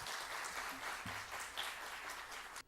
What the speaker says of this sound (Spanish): vamos a recibirlo con el aplauso merecido.